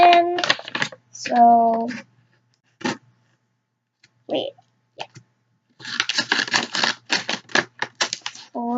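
Scissors snip and crunch through a stubborn plastic slime package in a quick run of close, sharp clicks, preceded by brief talking and rustling.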